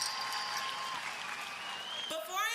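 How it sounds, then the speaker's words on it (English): Students and guests applaud and cheer at the Eagles Landing High School 2024 commencement ceremony, with continuous clapping and high whoops rising above it toward the end. "Another round of applause for that speech."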